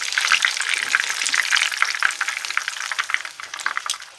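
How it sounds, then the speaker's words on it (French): Extra-crispy chicken nuggets fry in hot oil as a second batch, cooked about four minutes per side, giving a steady, dense crackle and spatter close up with no voices. "La deuxième tournée est en train de cuire."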